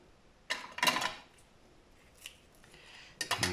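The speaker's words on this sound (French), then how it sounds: "Un ruban. Donc, hop, je vais faire assez grand. Je coupe en deux." Scissors cut a ribbon in two, making several crisp snips close up. A pair of quick cuts comes early, then a fainter one, then another snip at the end, with quiet pauses between and no talking.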